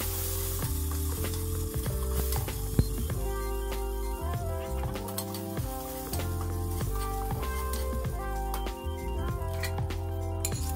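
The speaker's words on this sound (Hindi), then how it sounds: "फिर इसमें कटे हुए प्याज के व्हाइट पार्ट को डाल देंगे, एक से डेढ़ मिनट इसको भी फ्राई कर लेना है।" Chopped spring onion whites and greens fry in a pan for moong dal tadka, giving a steady close sizzle under a loud continuous music bed, with occasional stirring clinks.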